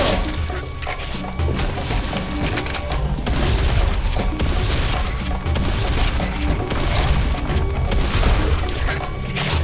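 A Gatling gun in the shooter Serious Sam 3 BFE fires a continuous, loud spray of rounds, with crashes and booms from enemies and impacts layered throughout.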